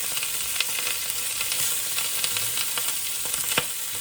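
Sausages and red onion sizzle steadily in a frying pan, a dense continuous crackle with scattered sharper pops and a few soft clinks of turning, close and moderately loud, no talking.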